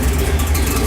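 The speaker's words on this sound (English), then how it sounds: "Boy, very smooth motor." A Rocket II trike engine idles smoothly, a close, steady low rumble with no talking over it.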